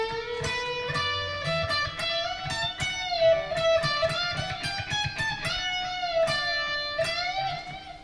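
An electric guitar plays a lick at full speed, a continuous run of clean sustained notes and bends with faint muted strums underneath, played alone.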